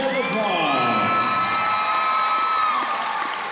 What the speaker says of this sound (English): let's give our all-region selections a big round of applause